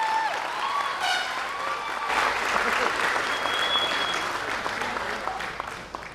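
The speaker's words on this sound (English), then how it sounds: "Let's give them another round of applause." Sustained applause for graduating students at a 2021 graduation ceremony, a dense, steady wash of many hands clapping from a large audience, with a few faint voices and cheers mixed in throughout.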